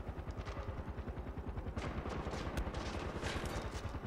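Rifle shots in the video game Far Cry 4, fired in quick succession as a steady, dense run of sharp reports that fills the whole stretch without talk.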